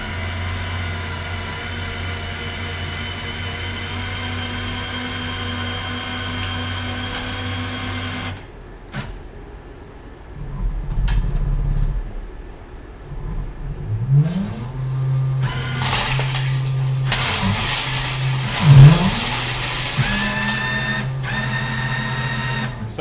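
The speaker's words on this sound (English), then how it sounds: "we will have the drum hit the ground first, which I will demo now" A student-built excavation robot runs its digging drum into sand. A steady motor drone cuts out and then returns as uneven whirring, with rising motor pitches and scraping bursts close by.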